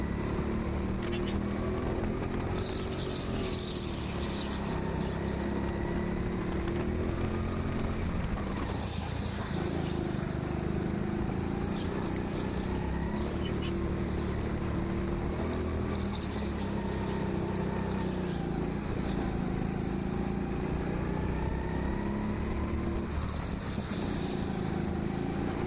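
Continuous high-revving engine drone from a go-kart driven around an indoor TeamSport Sheffield track, its pitch rising and falling with acceleration through corners and ramps, steady and close throughout with no clear speech.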